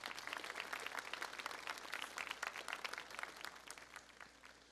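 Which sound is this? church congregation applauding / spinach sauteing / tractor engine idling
church congregation applauding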